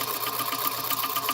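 A sewing machine stitches quilt pieces with a steady, even mechanical whir and fine rapid ticking. The sound is moderately quiet, continuous and heard on its own.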